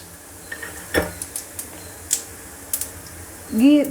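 Cumin seeds spluttering in a spoonful of hot ghee in a home kitchen: scattered sharp pops and crackles, sparse and irregular, with a brief utensil clatter near the end.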